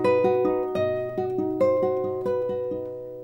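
Classical guitar playing a passage from Romance: steady plucked triplet arpeggios with ringing bass notes, each bar's chord shifting, close and clear with no talking.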